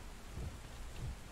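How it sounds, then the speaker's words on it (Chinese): Steady rain hiss from the video game Deep Rock Galactic, falling inside a dug-out cave, with low rumbling swells like distant thunder over a short stretch. "室内下雨，而且重点是我的洞里也下雨，真莫名其妙。"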